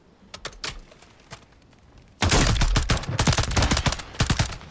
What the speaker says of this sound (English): There's a lot of gunfire coming down the center of this compound, so just don't even try.